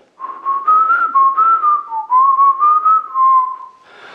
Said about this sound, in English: So if you whistle Yankee Doodle, even like me, if you can't whistle,